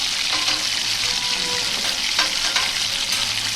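Store-bought puris frying in hot oil in a pan, a steady dense sizzle throughout with faint bubbling crackles, close and fairly loud, no talking.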